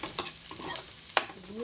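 Sliced onion dropped into hot oil rendered from coconut milk for ginataang puso ng saging and papaya, a close crackling sizzle with stirring scrapes and one sharp spatter.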